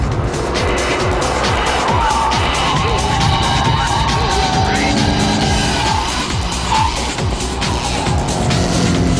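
A high-performance sports car is driven hard, its engine roaring continuously and loudly with tire squeal and skidding noises layered over the dense, steady drone.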